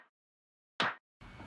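One short default clap sample with a rim-shot-like snap rings out alone, a single crisp hit that decays fast, with a clipped tail of sound before and a duller noisy burst after.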